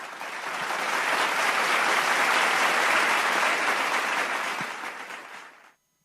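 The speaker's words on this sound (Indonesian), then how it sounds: "boleh saya minta sekali lagi tepuk tangannya untuk chatbot kita" A large audience at a government staff launch event claps steadily for several seconds, a broad dense wash of applause that swells in and then fades out near the end.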